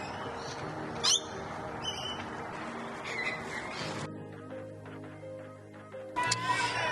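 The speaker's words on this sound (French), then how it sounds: "des petits perroquets." Small parrots squawk and chirp in Kings Park, Perth, a busy overlapping flock calling steadily at moderate distance, with a sharper burst of calls near the end.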